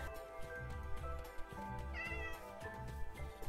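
A cat meows repeatedly in Minecraft, a series of close, clear mewing calls over a continuous backdrop of game music.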